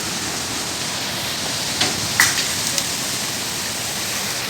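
Steady rain falls outside a home, a dense, even hiss throughout with a few brief sharper knocks or clatters near the middle.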